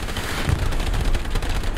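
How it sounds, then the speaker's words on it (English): Suppressive gunfire in a video game: a dense, continuous fusillade of rapid shots and booms fills the whole short stretch at steady loudness, with no talk over it. "I've got suppressive fire."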